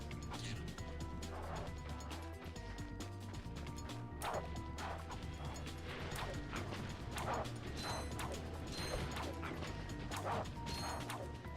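Bolts are collected in the Ratchet & Clank video game, heard as a busy stream of metallic clinks, ratcheting clicks and mechanical clatter layered over steady game background noise.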